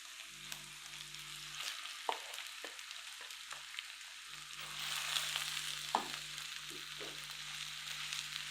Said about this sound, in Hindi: इसका कलर चेंज होने तक इसको फ्राई करेंगे।